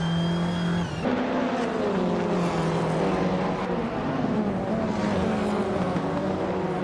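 Race cars, including a 2018 Peugeot 308, in a racing video game: a continuous loud engine drone whose pitch climbs and drops with gear changes, close and steady with no talk.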